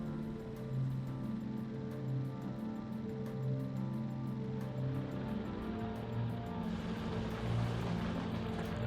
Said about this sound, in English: keep a car in my pocket to drive around in when we need to traverse long distances